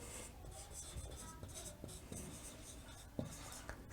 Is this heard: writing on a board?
yes